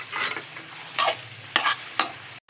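Pasta being stirred and tossed in a pan with chili sauce, a few distinct scraping strokes with a soft sizzle between them, close and alone, then a brief drop to silence near the end.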